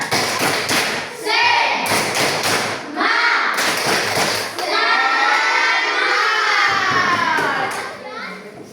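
A school class performs a rhythmic group clap chant, children's voices shouting in unison between bursts of claps and thumps, loud and close.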